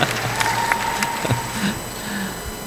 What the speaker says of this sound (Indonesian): kita berikan tepuk tangan dulu dong moderator kita ini